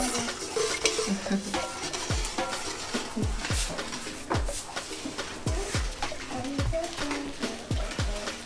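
Repeated scraping and clinking of a spoon stirring asana, a Ghanaian drink, in a pot, with soft sizzling texture and a voice murmuring in the background.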